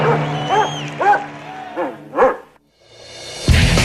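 Dog during a record high jump, climb and retrieval stunt, giving a series of about five short yelping barks and whimpers, then a pause before a burst of crowd noise.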